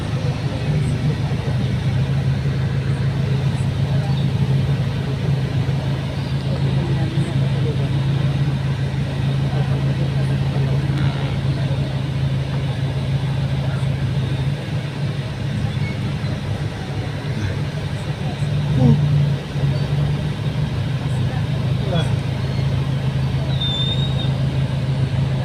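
Road traffic at a bottleneck in Dagupan City, a loud steady rumble of idling and crawling cars, trucks and buses with a constant low engine drone and occasional faint louder passes.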